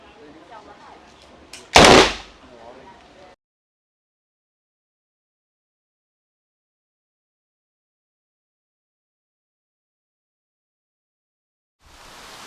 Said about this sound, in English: When the light comes on, draw the gun, fire.